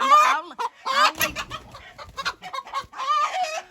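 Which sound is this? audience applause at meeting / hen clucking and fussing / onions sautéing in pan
hen clucking and fussing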